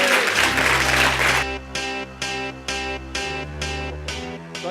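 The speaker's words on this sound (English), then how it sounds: "I'd like to give you a huge, huge round of applause for Tony Mc Carthy, the Irish marketer." An indoor audience at an internet marketing talk applauds, starting as a loud, dense burst of clapping before a sustained synthesized musical tone with rhythmic repeated chord stabs takes over.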